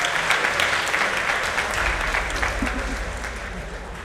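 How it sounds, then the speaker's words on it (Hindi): An audience at the Oxford Union applauds with a broad, even roar of clapping that holds steady and then gently tapers. "ऑक्सफोर्ड यूनियन में बैठे सभी मजहबों के एक्सपर्ट ने तालियां बजाई"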